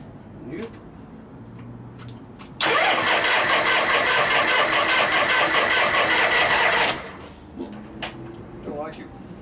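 A 1973 Harley-Davidson Shovelhead 74ci engine cranks loudly and steadily for about four seconds without catching, then stops, with voices nearby before and after.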